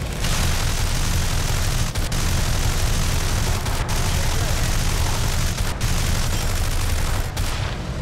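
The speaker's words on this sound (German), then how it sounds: "dieses MG macht mich fertig, das überhitzt ja wahnsinnig schnell" Machine gun fire in the War Thunder game, a dense continuous rattling roar from an overheating MG, loud and close, with a few brief breaks and a voice talking over it.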